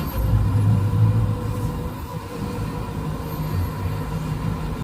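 Boat motors on a Tiara 43 LE with new filters running after starting, a steady, fairly loud low engine rumble that surges slightly early on and then settles to an even idle.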